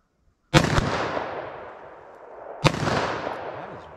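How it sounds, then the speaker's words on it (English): Two loud, sharp gunshots from a .357 Magnum snub-nose revolver fired outdoors at a range, each a sudden crack with a long decaying roll-off, spaced about two seconds apart. "I normally don't have an issue from this distance with 357 mag out of a snub nose."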